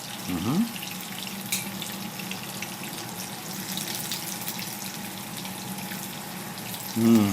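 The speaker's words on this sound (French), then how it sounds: "Ça grésille" Steady hiss and crackle of food sizzling in a hot pan, continuous and close, with a brief clatter at the start and end.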